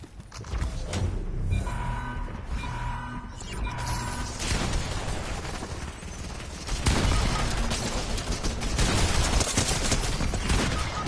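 Rapid bursts of automatic gunfire and mechanical weapon clatter from a Fortnite match, dense and continuous at close range, with the shooting growing louder and heavier toward the end.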